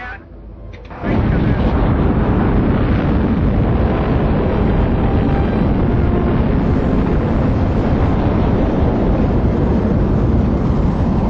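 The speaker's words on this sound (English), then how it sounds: "we got a report from the Cape that the launch looks pretty good" A rocket launch from Cape Canaveral: after a short quieter lead-in, a sudden loud, sustained broadband roar sets in and holds steady for about ten seconds, rumbling and wind-buffeted.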